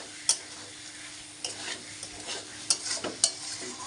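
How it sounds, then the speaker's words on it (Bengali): Chicken is stirred with spices in a pan, a soft sizzle running underneath while a utensil scrapes and clicks against the pan in a few sharp, close knocks. "দিয়ে ভালো করে মশলার সঙ্গে চিকেনটাকে ভালো করে মাখিয়ে নিয়ে মিক্সড করে নিতে হবে"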